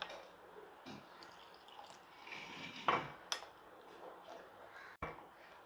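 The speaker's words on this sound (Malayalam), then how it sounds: "ഇച്ചിരി കൂടെ വെള്ളം ഒഴിക്കാവേ" A little water is poured into a thick masala coating batter, giving soft liquid trickles with a few sharp clinks and scrapes of a utensil against the bowl, fairly faint and close, with no speech.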